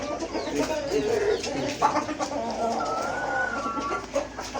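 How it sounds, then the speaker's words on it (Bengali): Steady clucking from a friendly rooster among tiger-patterned chickens fills a noisy pen, with other fowl calling continuously in the background. "এই দেখেন মোরগটা, দেখেন কতটা ফ্রেন্ডলি মোরগ"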